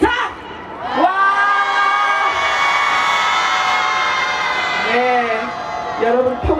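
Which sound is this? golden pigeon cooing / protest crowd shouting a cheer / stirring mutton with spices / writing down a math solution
protest crowd shouting a cheer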